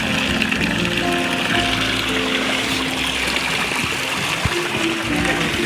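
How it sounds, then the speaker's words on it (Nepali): Steady rushing flow of stream water near Pokhara, a continuous broadband wash that stays loud and even throughout with faint tonal hum underneath and no clear talk. "यहाँबाट चाहिँ पानी आइरहेछ यहाँबाट चाहिँ यस्तै पानी आइरहेछ"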